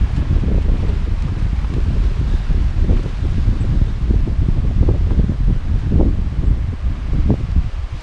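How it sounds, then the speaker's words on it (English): Wind buffets the microphone on an exposed hillside along the Hadrian's Wall walk, a loud continuous low roar with gusting surges and no voices throughout. "At least it's dry, just quite windy."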